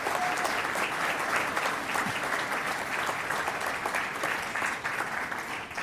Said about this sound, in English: the applause came from around here